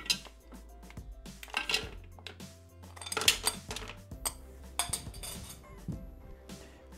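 Dark chocolate and Rossana chocolate candies clatter and clink into a hard Thermomix bowl, with scattered knocks and rattles up close, no talking.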